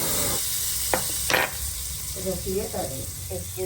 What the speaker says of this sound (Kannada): ತುಪ್ಪದ ಒಗ್ಗರಣೆಯನ್ನು ಹಾಕಿದ್ದಾರೆ.